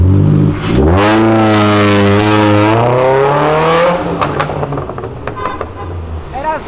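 A Mercedes car with a dual exhaust accelerates hard past, its engine note climbing loudly and steadily before fading off, with a brief voice afterward.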